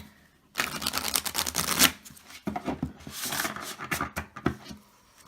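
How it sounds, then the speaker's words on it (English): Plastic cardstock playing cards from a borderless Ellis deck being riffle shuffled, two bursts of rapid fluttering clicks close to the mic, separated by a short pause, with a lighter patter trailing after. "because it is plastic cardstock, I should be able to riffle shuffle it this way."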